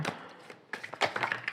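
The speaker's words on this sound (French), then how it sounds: "je vais faire une coupe et je vais prendre 3 cartes" Tarot cards being cut and shuffled by hand, a run of soft papery taps and slaps, close and fairly quiet, with a brief lull midway before a busier burst of card flicks.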